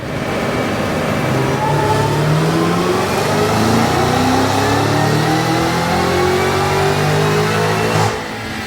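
A Cadillac CT5-V Blackwing with a JLT intake runs a dyno pull: a loud, continuous engine note climbs steadily through the revs for about eight seconds, then cuts off abruptly near the end. No one speaks over it.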